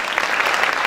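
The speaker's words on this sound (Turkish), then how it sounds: "alkışlarımızla" Audience applause at a Turkish television award ceremony, a steady burst of clapping from a crowd in a hall, fairly close and continuous throughout, with no talk over it.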